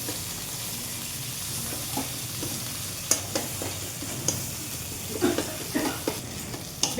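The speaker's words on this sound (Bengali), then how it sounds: "তেলটার মধ্যে ভাজা হতে হতে শুটকিটা একটু একটু করে গলতে থাকবে।" Dried puti fish sizzles steadily in oil while a utensil stirs and scrapes the pan in irregular knocks and taps, close and fairly loud, without talk.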